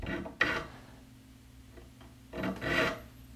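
A hand file rasps across saw teeth during sharpening, two distinct strokes separated by a quiet pause, close and fairly soft with no talk.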